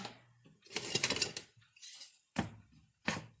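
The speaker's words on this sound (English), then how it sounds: "let me go ahead and grab that pot" A metal cooking pot is picked up in a home kitchen, giving a few sharp clanks and clinks of cookware at close range, with short handling noises in between and no talking.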